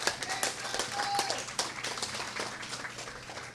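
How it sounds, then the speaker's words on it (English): A reception crowd at a community college district emeritus event gives a round of applause, a dense patter of many hands clapping at a modest, distant level that continues steadily throughout. "Round of applause."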